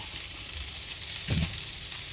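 Onion and garlic frying in a pan for a Filipino dried fish dish, a steady faint sizzle with a brief louder burst of stirring partway through.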